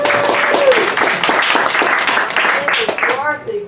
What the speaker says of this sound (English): give Dorothy a round of applause